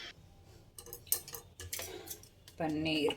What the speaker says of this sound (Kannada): ಇವಾಗ ನೆಕ್ಸ್ಟು ಪನ್ನೀರೆಲ್ಲ ಕಟ್ ಮಾಡ್ಕೊಳ್ಳೋಣ